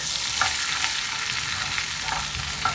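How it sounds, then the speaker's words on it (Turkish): Cornmeal being roasted and stirred in a pan for kuymak, a continuous dry sizzle with occasional spoon scrapes, close up and without speech. "mısır unu ilave ettim. Ve güzelce kavuracağım."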